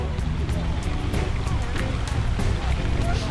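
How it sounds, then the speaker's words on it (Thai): A waterfall in a hydrangea flower garden at Khao Kho, Thailand, gives a steady broadband rush of falling water, with someone talking over it. "มีน้ำตกด้วยครับ"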